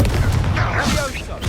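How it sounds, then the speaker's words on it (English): A Confringo fire spell in Hogwarts Legacy bursts as a loud, dense, roaring blast that fills the short moment, a continuous crackling whoosh with low rumble, partly overlapped by a voice. "Confringo."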